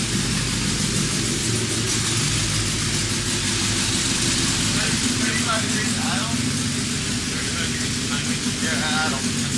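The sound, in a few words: tuned Honda B16 street car engine idling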